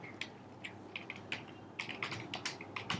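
Quiet, irregular keystrokes on a computer keyboard while writing Java code for Selenium WebDriver, short clicks in uneven bursts close to the microphone with no talk.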